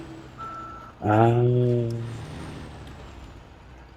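A heavy truck in SnowRunner sounds its reversing beeper, a few evenly spaced electronic beeps over engine rumble and a hiss of air brakes, with a brief murmur of speech.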